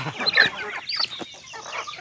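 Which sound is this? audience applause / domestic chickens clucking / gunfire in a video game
domestic chickens clucking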